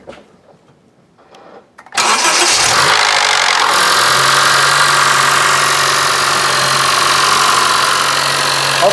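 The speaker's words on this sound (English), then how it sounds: "it's slightly rattling a little bit when it first starts" A 2015 Honda Fit with a VTC fault cranks and starts after a quiet moment, then settles into a loud, steady idle with a brief rattle near the start, heard up close.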